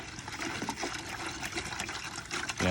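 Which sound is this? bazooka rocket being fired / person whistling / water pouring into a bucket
water pouring into a bucket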